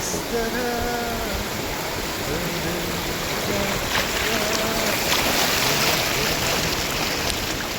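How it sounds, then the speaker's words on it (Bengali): Sea waves wash onto the beach with a continuous broad rushing roar, while people talk and call out in the background. "এই যে সমুদ্রে এসে সমুদ্রের জলের এই আওয়াজটা পাও"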